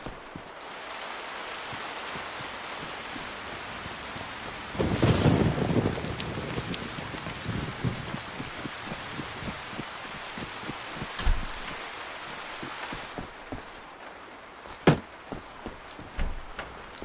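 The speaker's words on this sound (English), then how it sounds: "Or is it just rain?" Steady rain falls across the Livonia map in the DayZ video game, a continuous wash of drops with scattered louder patters and occasional sharp taps, no voices.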